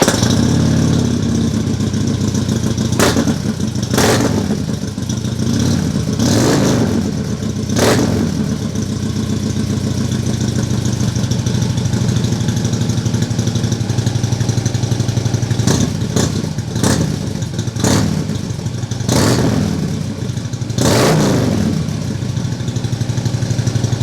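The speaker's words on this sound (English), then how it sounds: "that's a little audio sample of what the Kuryakyn Crushers sound like" Harley Road Glide motorcycle with Kuryakyn Crusher exhaust, baffles in, idling loud and close with a deep steady rumble, broken by about a dozen sharp throttle blips and revs, no talk.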